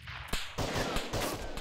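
Frag grenade explosions in the co-op military shooter ArmA 3, a sequence of sharp, loud blasts with rumbling tails, several detonations in quick succession over a little more than a second.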